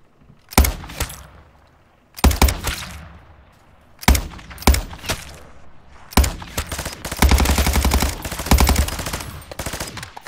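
Loud volleys of automatic gunfire from Call of Duty Modern Warfare III Zombies crack out in four or five separate bursts, with short pauses between them and a long sustained stretch of rapid fire near the end.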